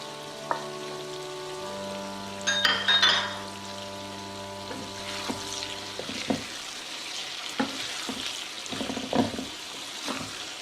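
Chicken kabab mixture with serrano chilies is stirred in a hot pan, producing a soft sizzle with scattered scraping knocks of the utensil, preceded by a few sustained ringing tones.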